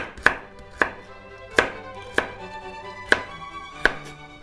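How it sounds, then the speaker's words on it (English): Carrots being cut with a kitchen knife, six sharp, evenly spaced blade strikes against a cutting board, close and crisp with a slight pause between each chop. "So I just simply cut the carrots in half and then I slice them lengthwise"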